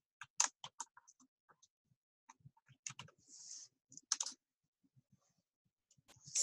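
Sparse, crisp keystrokes and clicks on a computer keyboard while working in an Excel spreadsheet, spaced irregularly with a brief hiss and a quick flurry of taps, close and quiet in a silent room.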